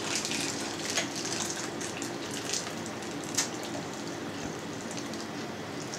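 Boiling water pours steadily over tomatoes scored crosswise at the base, a continuous close splashing rush that runs unbroken throughout.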